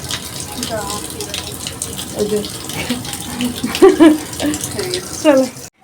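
Running water from a tap gushes and splashes steadily during cleaning, with a few short voices speaking over it near the end.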